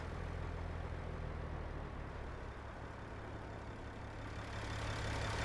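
Cat 3406E diesel in a Peterbilt 351 idling in American Truck Simulator, pulling a Wade step deck trailer: a steady, deep low-pitched rumble that runs continuously throughout.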